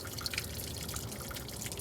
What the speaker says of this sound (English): Let's put water in it.